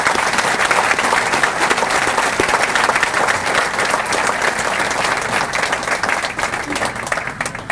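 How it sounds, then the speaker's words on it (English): Dense, continuous applause fills a college scholar-athlete banquet hall, many hands clapping at once in a loud, steady roar that tapers a little near the close. "So if we could have a round of applause for all those people."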